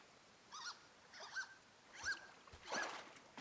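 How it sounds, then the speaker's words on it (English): A distant duck or goose honks four times at irregular intervals beside a lake in the Firewatch video game, faint nasal calls over soft outdoor ambience. "Is that a duck? Or goose?"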